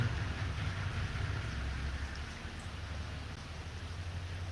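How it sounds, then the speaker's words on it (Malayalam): Soft, continuous rainfall hisses quietly in the distance over a low rumble, with no one speaking. "ഇവിടെയൊക്കെ നല്ല മഴയാണ്"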